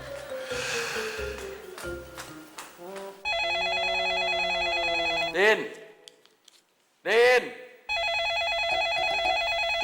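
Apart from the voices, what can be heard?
telephone ringing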